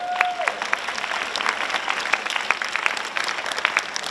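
Scattered applause from a school assembly audience welcoming returning and new faculty and TAs, a steady patter of individual claps at moderate distance, with a brief tone at the start.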